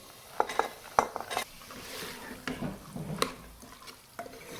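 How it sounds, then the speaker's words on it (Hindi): Cooked kidney beans are stirred into a thick Punjabi rajma masala in a pan, with sharp spoon clinks and wet scraping strokes in an uneven rhythm over a light sizzle, up close. "इसके साथ ही हम इसमें ये राजमा मिला देंगे।"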